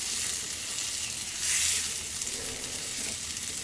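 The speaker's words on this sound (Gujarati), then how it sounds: "હવે અમે ટામેટું લઈ લઈશું એક, એને પણ સોફ્ટ થાય ત્યાં સુધી શેકી લઈશું." Tomato frying in a pan after onions for a Gujarati sev nu shaak, a steady broadband sizzle holding throughout with a brief louder swell midway, close and alone.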